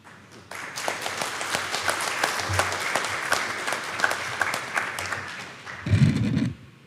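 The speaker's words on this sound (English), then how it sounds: "Can we give everybody a round of applause again?" Audience applause at a CDL driver graduation ceremony in New York City, steady dense clapping from a crowd that starts abruptly and holds for about five seconds before a brief rumble at the end.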